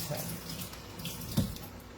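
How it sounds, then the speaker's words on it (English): Tap water runs steadily over grapes being rinsed under a faucet, a soft continuous splashing with one brief louder splash partway through. "Just run it under a little water."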